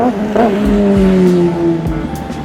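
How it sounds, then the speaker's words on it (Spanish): A motorcycle passes close by on a street in Colombia, its loud engine drone bending in pitch as it approaches and moves away, with no talking. "Pasó una rolo de moto"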